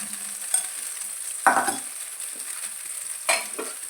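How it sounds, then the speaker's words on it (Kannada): Butter going into a hot pan for butter rice with butterfly prawns gives a soft crackling sizzle under a steady frying hiss, with a few brief louder bursts and light stirring scrapes; no one speaks. "ಇದು ಈಗ ಬಿಸಿ ಆಯಿತು ಈಗ ಬೆಣ್ಣೆ ಹಾಕ್ಕೊಳ್ತೇನೆ"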